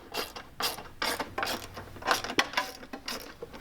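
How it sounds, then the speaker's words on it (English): A ratchet clicks in quick repeated strokes as a 10mm bolt is tightened on a fender flare bracket of a 2024 Can-Am Maverick R, close and moderately loud, with metallic creaks between strokes. "we're going to be tightening the 10mm right here."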